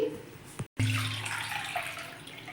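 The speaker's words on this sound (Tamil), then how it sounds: "இந்த செம்புக்கு ஒரு செம்பு தண்ணி ஊற்றிருக்குறேன்" Water is poured from a vessel onto soaked toor dal seasoned with turmeric and salt for a drumstick leaf sambar, making a close splashing gush that briefly stops and then resumes as a steady run.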